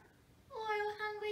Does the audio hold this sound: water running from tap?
no